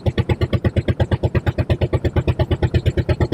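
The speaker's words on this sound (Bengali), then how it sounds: "আমাদের নৌকাটা এখন খাড়ির ভেতরে ঢুকছে আস্তে আস্তে, টুকটুক টুকটুক করতে করতে।" A motorboat engine putters steadily as the boat moves slowly into a tidal creek near Lalganj sea beach in Bengal. The close, even chugging beats about eight times a second with no talk over it.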